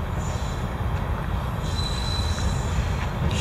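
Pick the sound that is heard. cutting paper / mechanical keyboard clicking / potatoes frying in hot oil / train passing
train passing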